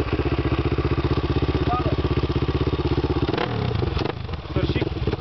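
A motor vehicle engine idles with a rapid, even chugging pulse, loud and close, then the rhythm breaks into rougher, uneven sputtering near the end, with people talking over it.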